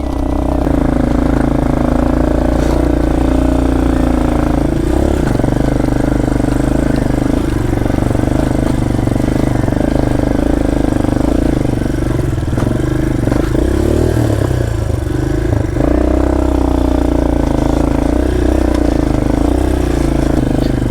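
A motorcycle rides along a rough, uneven village road, its engine droning steadily and loud throughout with clattering jolts and brief surges in revving, close by and continuous with no talk.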